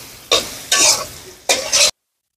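Garlic, onion and cumin fry in a pan, sizzling in three loud bursts of stirring with short quieter gaps between, close up and with no talk.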